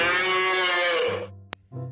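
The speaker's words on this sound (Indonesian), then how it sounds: "ini ada sapi" A cow in an animal-cleaning video game gives one loud, drawn-out moo lasting over a second, followed by a short click and a faint electronic tone.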